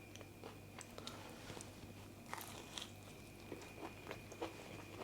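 Crispy, crunchy masala-marinated fried fish with spicy coating being bitten and chewed close up, a run of soft irregular crunches and munching over a low steady background hum.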